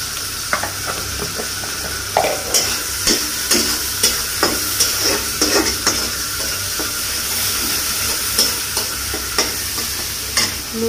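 Onions and meat fry in a hot pan with salt and black pepper, giving a steady loud sizzle broken by regular scraping stir strokes, with no one talking.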